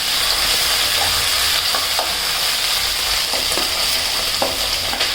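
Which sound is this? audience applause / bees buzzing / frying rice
frying rice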